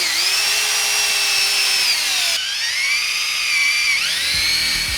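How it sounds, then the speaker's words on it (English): A power drill whines loudly and steadily, its pitch sagging under load as it bores through the middle of a hard rubber hockey puck, then briefly rising again near the end. "We're going to drill a hole through the middle"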